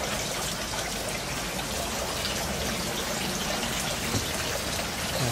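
Water trickles and splashes steadily as it is pumped into and continuously drains from a tray in a backyard aquaponics setup, a constant close hiss with no pauses.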